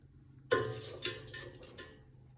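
A spoon scrapes and taps through spices and herbs, black pepper and red pepper flakes among them, in a cooking pot, a few distinct clinks over soft scraping, close and fairly quiet.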